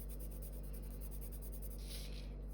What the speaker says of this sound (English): I'm just going to press hard with my pencil and go around the pupil like this.